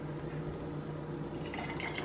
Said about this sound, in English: I'm pouring.